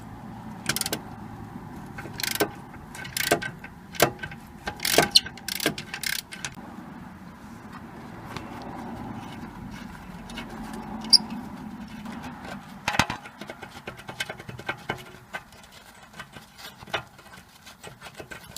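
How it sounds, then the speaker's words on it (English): Metal clanks and ratcheting clicks from bolts and a bracket being removed from the front suspension strut of a BMW E46, sharp close taps clustered early, then scattered softer knocks over a low hum, no talk. "we're going to remove the bolts and bracket."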